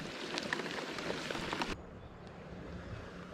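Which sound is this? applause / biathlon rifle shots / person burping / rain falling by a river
rain falling by a river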